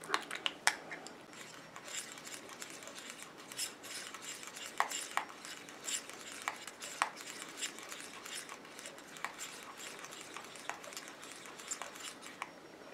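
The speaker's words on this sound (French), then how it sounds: "Je viens mélanger." A spoon or spatula stirs a thick homemade autumn hand cream in a small bowl, giving soft repeated scraping and clinking taps at a steady pace, close and fairly quiet.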